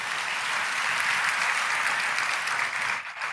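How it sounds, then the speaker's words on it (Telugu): A church congregation claps together in praise, a loud continuous roar of many hands filling the room, tapering slightly at the very end. "వీళ్ళు చప్పట్లు కొట్టి దేవుని మహిమపరచండి"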